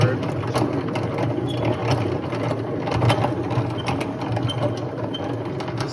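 A hand-cranked honey extractor spins with a busy, continuous rattle of gears and ratcheting clicks, loud and close, while voices murmur underneath.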